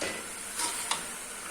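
Chicken keema stir-fried in a pan, a large batch of two and a half to three kilos of ground chicken, giving a steady close sizzle with a couple of brief scraping stirs.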